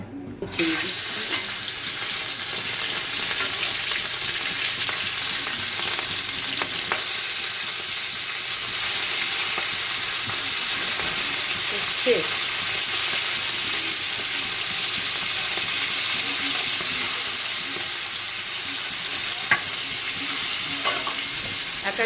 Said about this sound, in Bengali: মা মাছগুলো এদিকে ভেজে নিক